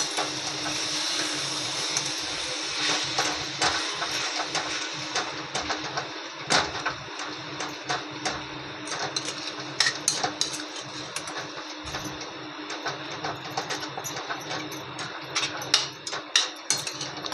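Momo filling being stirred in a pan, a steady run of scraping and clinking from a utensil against metal, with sharper taps scattered throughout and no voices over it.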